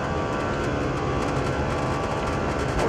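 An Airbus A340-300 accelerates on the runway at takeoff thrust leaving Tokyo Narita, a steady, loud, dense engine roar with whining tones heard from inside the cockpit, no talking.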